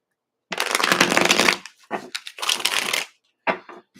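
Tarot cards being shuffled close by in quick riffling bursts, a long one followed by several shorter ones, with brief pauses between.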